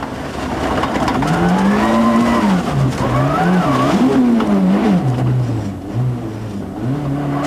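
Tommy Mäkinen's Mitsubishi rally car on a snowy Monte Carlo Rally stage in 1995, its engine droning loud and close with rising and falling revs as it slides through the wintry conditions, continuous throughout.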